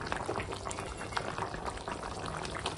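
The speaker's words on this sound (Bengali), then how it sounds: "আর দেখো মাংসটা এখন ফুটছে" A pot of goat meat curry bubbles at a steady, vigorous boil, with dense crackling and popping bursts continuing close by throughout.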